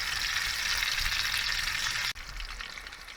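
Steady, close sizzling of food frying on a butane camp stove outdoors, a bright continuous crackle with a brief interruption near the end.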